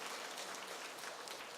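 Church congregation at Sunday worship claps for choir members who placed in a singing contest, a soft, even patter of applause lasting a moment, fairly distant and faint.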